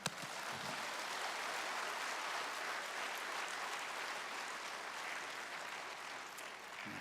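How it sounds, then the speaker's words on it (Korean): Audience at a 2024 senior missions conference applauding to welcome a pastor to the stage, a steady, full burst of clapping from many hands that continues for several seconds with no voices over it. "목사님 힘내시고 박수로 환영하겠습니다."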